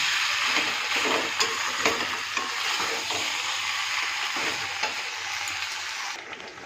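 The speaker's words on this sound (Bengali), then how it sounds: "মশলাটা কি সুন্দর কষা হয়ে গেছে দেখুন" Spice paste frying in a pan for a Bengali fish and kohlrabi curry, a continuous bright sizzle broken by regular scraping stirs, close and steady with no talk.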